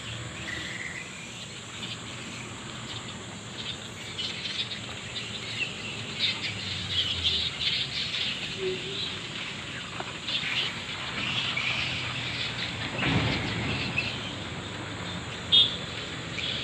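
Insects shrill steadily throughout an outdoor scene where birds gather in an old tree, with scattered faint chirps and calls over the dense background buzz and no talking.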